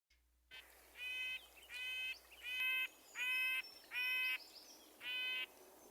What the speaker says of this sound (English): And then the red-breasted is much more nasally.